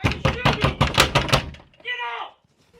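A fist pounds on a door during a safety drill at a kids' dental office, a rapid run of loud heavy knocks about ten in a row, then stopping as a shout follows.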